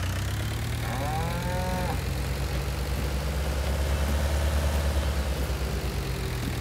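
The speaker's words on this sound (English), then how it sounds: "Out of the way, cow." A single cow in Farming Simulator 19 lets out a short moo over a constant low engine drone of idling farm machinery.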